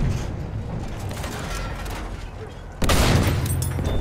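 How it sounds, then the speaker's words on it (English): Machine gun fire in the Battlefield 1 video game rattles in the distance under low rumbling, then a loud, dense burst of close gunfire erupts near the end and keeps going. "Enemy machine gun."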